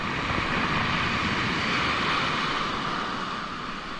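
Ocean surf at Butas Butas beach in Mauban, Quezon, heard as a loud, continuous broadband roar of crashing waves with no break through the whole stretch.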